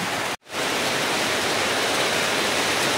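Heavy rain pours down steadily and close by, a dense broadband hiss that drops out for a split second near the start before resuming, with no voices heard.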